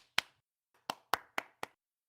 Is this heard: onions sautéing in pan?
no